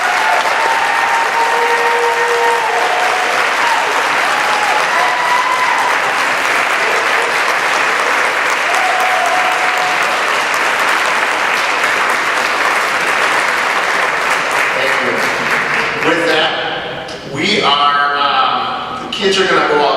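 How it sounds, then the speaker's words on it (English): A long, full round of applause greets a class of graduates at a school graduation ceremony, dense and steady for most of its length before fading out as voices speak near the end. "Let's give them a nice round of applause."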